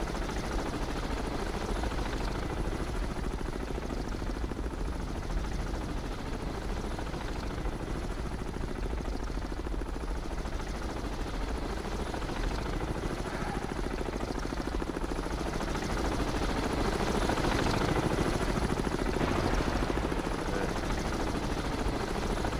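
A steady, dense mechanical roar of helicopter rotors in the submarine game Cold Waters runs throughout with no pauses, swelling slightly louder near the end.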